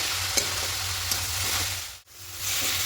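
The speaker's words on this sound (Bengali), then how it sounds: "এইভাবে করে নাড়তে থাকবো যতক্ষণ একটা পাকের মতো আসবে" A carrot pitha mixture being stirred in a pan, giving a steady close frying hiss and sizzle with occasional soft scrapes of the spoon and a brief pause partway through.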